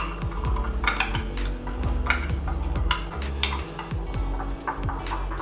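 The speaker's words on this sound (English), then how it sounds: "I'll also be adding soy sauce, preferably black soy sauce, and I'll mix this together" A spoon stirs fish sauce and black soy sauce together in a bowl, clinking quickly and steadily against the sides, close and fairly loud.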